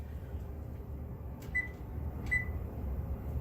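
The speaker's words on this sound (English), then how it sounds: "So I'm going to go ahead and start the oven." A kitchen oven being switched on to quick bake at 350 degrees gives two short, faint electronic beeps about a second apart over a low, steady hum.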